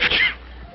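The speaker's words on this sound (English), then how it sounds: "Stop sneezing." A single sharp human sneeze bursts out loud and close, then fades into a quiet room.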